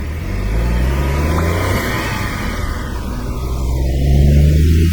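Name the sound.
Honda S660 turbocharged S07A engine accelerating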